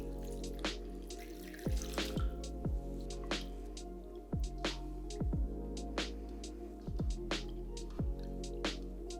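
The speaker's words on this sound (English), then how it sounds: "Move chopped lamb into a bowl and wash with water." Chopped lamb being washed in a bowl of water while cooking spicy cumin lamb, heard as close, repeated drips and wet splashes over a steady low hum.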